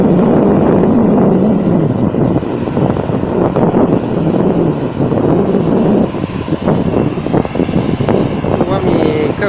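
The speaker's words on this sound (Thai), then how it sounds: "เป็นลมที่มาจากเครื่องบินนะครับ" Aircraft engine and strong wind blast at Phuket airport's Mai Khao beach, a loud rumbling roar with gusty microphone buffeting throughout, overlaid with people talking nearby.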